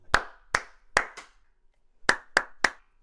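Sharp hand claps, close and loud, in two separate bursts: four quick claps, a short gap, then three more in a loose rhythm, each with a brief ringing tail.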